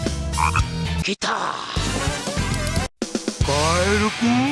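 A frog croaks repeatedly in the Sonic Adventure DX game, the croaks rising in bursts over game music and sound effects.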